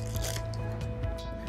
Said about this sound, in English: You could just pour all the beads right in there.